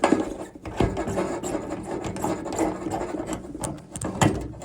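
A flexi hose is unscrewed by hand from a bath tap, giving close, continuous rubbing and gritty clicking of threads turning, with a few louder scrapes as the fitting loosens.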